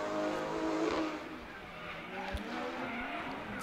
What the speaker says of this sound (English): Taylor James is released down the front straight, and he's got some good speed on him